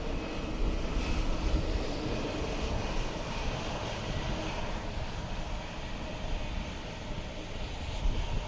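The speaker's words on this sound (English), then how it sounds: "So our ATR 72-600 in from Birmingham" An ATR 72-600 turboprop arriving from Birmingham at Dublin Airport, a steady, moderately distant engine drone and rumble that holds at an even level throughout, with no voices.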